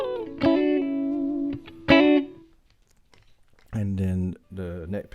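A PRS SE Swamp Ash Special electric guitar on the neck pickup sounds out two short, warm chord stabs, then falls nearly silent before two more ringing chords near the end.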